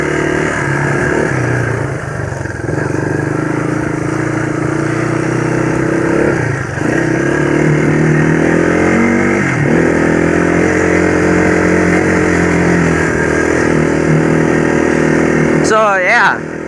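A YTM225 three-wheeler motorcycle ridden off road, its engine droning steadily and rising in pitch through several revs, loud and close, with a brief clatter at the end.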